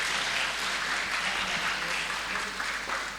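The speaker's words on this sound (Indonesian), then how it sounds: "Tepuk tangan untuk kita semua." A crowd applauds steadily at a seminar opening and program launch, a dense wash of clapping that holds at the same level throughout.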